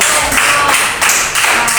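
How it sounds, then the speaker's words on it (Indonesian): A school class gives a round of applause for the kinesthetic learning group during a guidance counseling lesson, a dense burst of clapping from many hands close by. "Beri tepuk tangan terus dulu buat kinestetik"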